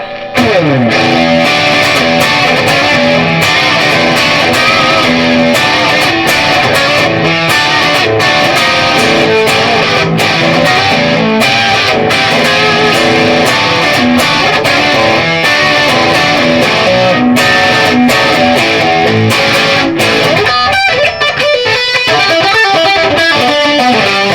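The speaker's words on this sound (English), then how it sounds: "Now bumping that tube screamer fake along with that hotter channel." Electric guitar, a Firefly FFTH Telecaster Thinline copy, played through a Tube Screamer-style overdrive pedal into a hotter amp channel, thick and distorted, with steady riffing and chords that carry on loudly for the whole stretch.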